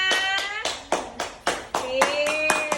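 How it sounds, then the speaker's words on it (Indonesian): Children in an audience clap in several quick bursts at the close of a school health education session, sharp broadband hand claps coming in uneven waves, with a voice or tones over part of it. "Oke, tepuk tangannya mana?"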